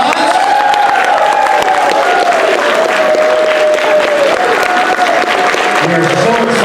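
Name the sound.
audience applause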